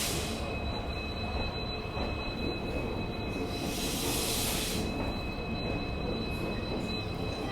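The Rajasthan Sampark Kranti Express travels between Delhi and Jodhpur, a steady close rumble of rolling coaches on the rails with sustained high wheel squeal and a brief hissing surge in the middle.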